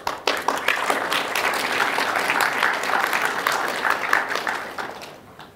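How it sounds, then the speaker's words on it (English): An audience at a Tokyo keynote's opening remarks applauds the event sponsors, a full burst of many hands clapping that swells, holds steady and then tapers off toward the end. "Please give sponsors a round of applause"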